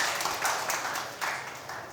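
Audience applause at a press conference, a steady wash of many hands clapping at moderate volume with a few louder bursts, no voices on top.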